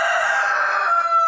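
A rooster crows in a flock where bantams and regular-size chickens are kept together, one loud close drawn-out call heard alone.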